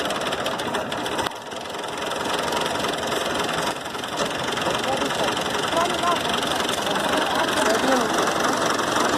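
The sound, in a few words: tractor engine running with PTO shaft driving a wheat thresher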